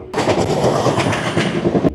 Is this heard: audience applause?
no